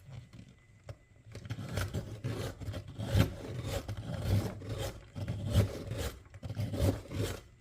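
An art supply is sharpened by hand with a series of quiet, rhythmic rasping and scraping strokes, each lasting about a second, close to the microphone.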